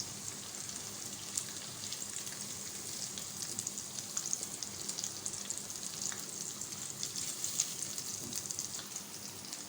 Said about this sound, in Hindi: ये देखिए तमाम बोटियां जो हैं वो अच्छे से फ्राई हो चुकी हैं